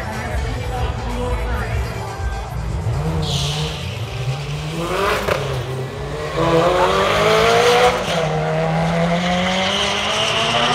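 A Mini fitted with a Honda B18 engine launches from the start line at Santa Pod Raceway during a drag racing event, its engine revving hard and rising through gears with loud tyre squeal amid crowd noise.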